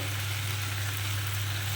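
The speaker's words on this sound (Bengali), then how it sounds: "ভাজা ভাজাও আমি খানিক করে নিলাম" Malabar spinach curry, cooked down until dry, fries in a pan with an even, continuous sizzle over a low steady hum, close by and uninterrupted.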